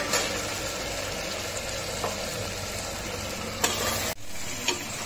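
Mutton sears in a pan for korma, an even loud hiss of frying running throughout, marked by a few sharp clanks of a utensil and a sudden brief cut near the end.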